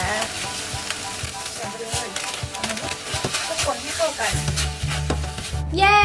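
Korean fish cake (eomuk bokkeum) stir-fries in a hot pan with vegetables, sauce and sesame seeds, giving a loud, steady sizzle broken by the scrape and clatter of stirring throughout.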